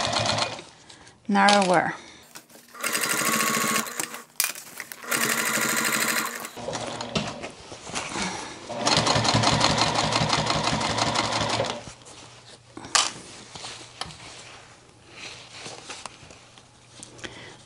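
A sewing machine stitches a denim tote bag made from old jeans, sewing close to the piping in several loud, steady runs of rapid whirring with pauses between, and a voice speaks briefly.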